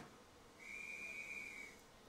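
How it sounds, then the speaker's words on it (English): A railway guard's whistle in Train Simulator 2020 gives one steady, shrill blast of just over a second over a low hiss of background noise, fairly faint. "we'll wait for the guards whistle to blow"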